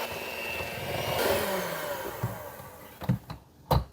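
An electric mixer on medium speed whirs steadily through pumpkin cake batter of sugar and canned pumpkin puree, then cuts out, followed by a few clanks and bumps of the bowl and beaters.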